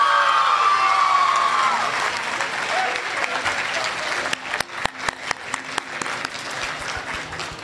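Audience at a Hindi-Urdu poetry recital applauding for their home city of Lyallpur: sustained, dense clapping mixed with cheers, then thinning into scattered individual claps toward the end.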